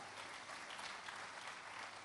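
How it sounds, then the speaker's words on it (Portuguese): A church congregation claps in steady unison during a Portuguese-language service, a dense, even wash of hands that holds without a break for the whole stretch. "dá um aplauso para Jesus, irmãos"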